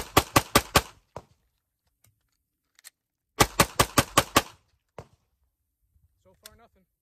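A Glock 19 pistol fires Winchester 115-grain steel case rounds in two rapid strings of sharp, loud shots, about five and then seven, separated by a quiet pause, with a brief voice near the end.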